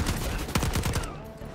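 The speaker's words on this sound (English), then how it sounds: "This AR sounds meaty." Gunfire from an assault rifle in the Black Ops 6 campaign comes as a rapid burst of dense, punchy shots layered over busy game sound, fairly loud and continuous.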